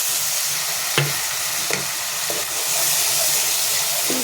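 Water is poured into a hot pan of fish curry and sets off a loud, steady hiss of sizzling and steam, broken by a few soft knocks, close up with no voices.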